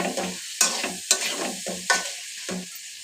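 Potatoes stir-frying in a pan with dried fish, quiet sizzling broken by several sharp scraping stirs of a spatula at irregular intervals, close and without talk.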